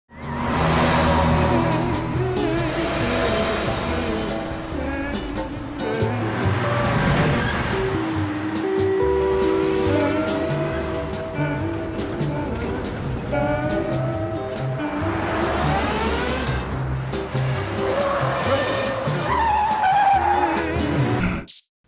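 A car reversing at speed: a loud, continuous engine roar layered with long tyre skids and squeals that rise and fall throughout, with no talking.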